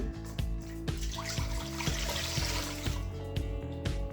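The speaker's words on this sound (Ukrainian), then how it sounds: "наливаю 600 мл водички." 600 ml of water pours steadily into a bowl for bread dough, a continuous splashing trickle over a low hum with faint rhythmic thumps.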